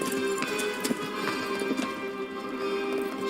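Horse hooves clip-clop at a steady trot in Kingdom Come Deliverance, a regular pattern of hollow taps over a busy game soundscape with a tonal hum.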